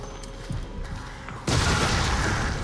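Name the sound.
grenade explosion in Resident Evil 7 video game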